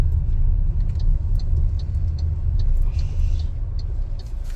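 An MG ZS's engine and road rumble are heard from inside the car while driving, a steady low drone that stays loud and even throughout with no talking.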